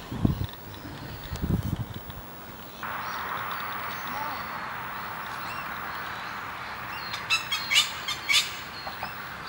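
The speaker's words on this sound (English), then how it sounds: "Its screech can be heard before the bird can be seen as they sing to each other across the trees." Rainbow lorikeets screech and squawk from the trees in Australia, with a few sharp, bright calls bursting out near the end over a steady outdoor hiss and some earlier low rumbling.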